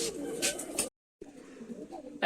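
Pigeons that have just landed coo softly at close range against an outdoor background. The sound drops out briefly in the middle, and low rustling follows.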